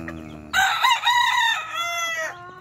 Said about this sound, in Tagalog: Ito guys, ang mga manok namin guys